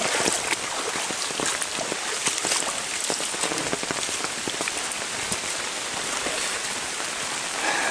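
Steady rain patters on foliage and the ground along a wooded trail, a dense, continuous hiss with scattered close drops tapping throughout, no voices.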